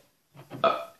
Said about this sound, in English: That burp stinks.